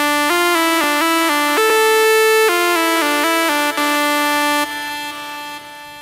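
Main synth lead melody from the drop of an electronic track, a bright buzzy tone stepping through sustained notes with a held note in the middle, loud and upfront and alone.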